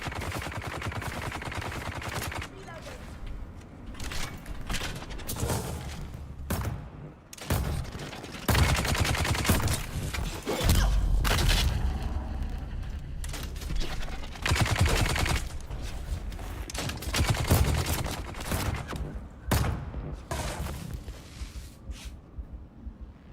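Rapid SMG bursts in the survival shooter Dune: Awakening, loud and close, with dense strings of shots broken by brief pauses across the whole stretch.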